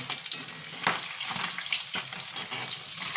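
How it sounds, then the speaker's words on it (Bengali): Pabda fish fry in hot oil with a dense, constant crackling sizzle, close up, broken by a few sharper spatters and soft handling knocks. "উল্টে দেবো আর এক পিঠটা হওয়ার জন্য। আর এক পিঠটা হয়ে যাক ভাজা।"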